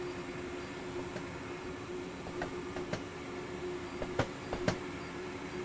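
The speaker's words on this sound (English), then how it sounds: "I'm just listening to the train, trying to hear if it's speeding up or not." A train runs down the Mittenwaldbahn mountain line in a railway simulator, giving a steady rolling drone with a faint hum. Light clicks and clacks of the wheels come through now and then, and no one talks.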